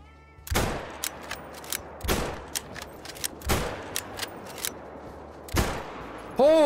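Gunshots in the hunting video game Call of the Wild: five loud, sharp reports spaced about a second or more apart, each with a decaying tail, over quiet outdoor ambience.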